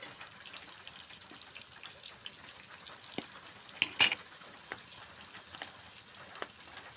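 Turmeric, chili and cumin powders stirred in a cooking pan, a faint steady fry with scattered light scrapes and one louder clink partway through, quiet and without voices.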